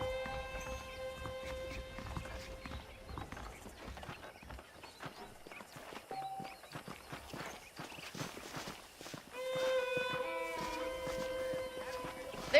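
Horses walk along in the video game Red Dead Redemption, their hooves clip-clopping in a steady, moderately close rhythm over a faint background of music, with no talk.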